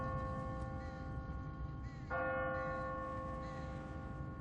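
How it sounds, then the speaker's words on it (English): A church bell rings on an automatic timer, its steady humming tone sustained and resonant, heard faintly over a low outdoor rumble with a fresh strike partway through. "What kind of church bell goes off at 20 past the hour?"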